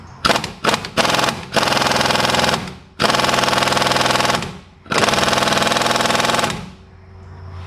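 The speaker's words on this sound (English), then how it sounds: "using the impact gun was really giving me some fits" An impact gun hammers at a spring hanger nut on a 2000 Ford Ranger: a few short stuttering bursts, then three long, loud rattling runs separated by brief pauses, very close.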